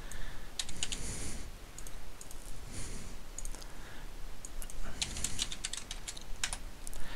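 Numbers tapped out on a computer keyboard, close and clear, a quick uneven run of clicking keystrokes in small clusters with short gaps, no talking.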